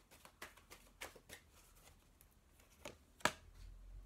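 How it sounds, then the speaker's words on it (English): Oracle cards from an angel healing deck shuffled outdoors while seated on a rock near water: a run of soft papery riffles and flicks, quiet and close, ending in a sharper tap. "Did you see how many times I shuffled?"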